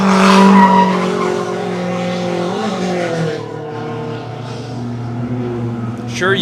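A drift car's tires squeal loud and sustained through a long slide, the tone wavering and bending as the car swings, with engine noise underneath at a live drifting event in Mexico.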